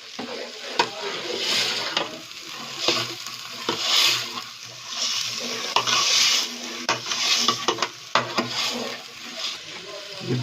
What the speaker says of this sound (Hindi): ये साग को तड़का लग रहा है।